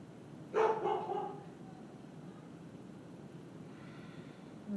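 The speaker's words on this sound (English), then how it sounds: "And you'll hear my dog barking because that's what he does." A single sharp dog bark rings out near the start of a quiet indoor yoga session, then fades into calm room tone.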